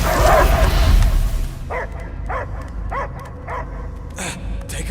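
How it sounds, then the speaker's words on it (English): In Marvel's Guardians of the Galaxy video game, a dog gives a run of five or six evenly spaced barks and yips, close and clear, after a loud noisy opening. "I hear only barking."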